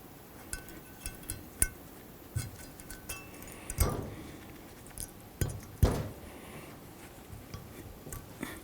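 Metal brake hardware tins clink faintly while being fitted during a rear brake job on a 2012-2020 Nissan Pathfinder, with scattered light ticks and a few louder clanks over a quiet background.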